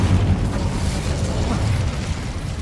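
A fire spell cast in the video game Hogwarts Legacy gives a sustained, loud whooshing rumble with heavy low-end boom that holds steady for the whole stretch, without clear separate bursts.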